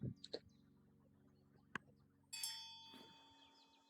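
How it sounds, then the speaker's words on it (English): A Northern Bobwhite call plays as a bird sound in the Wingspan board game, starting partway through as a bright burst of whistled chirps after a few soft game clicks and taps. "Northern Bob White."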